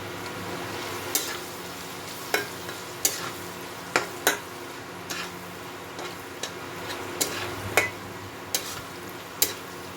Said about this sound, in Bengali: আলুটা একটু ভাজা করে দিই, তারপরে শিমটা দেব।